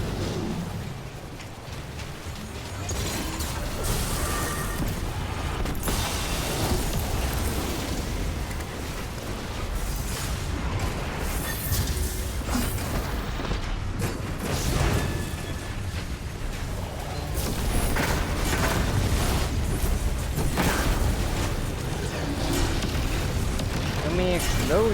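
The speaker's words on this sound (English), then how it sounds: "So many explosions." Dense, continuous explosions and booming blasts from the video game Destiny 2 fill the mix, loud and layered with constant game effects, while a voice talks over them.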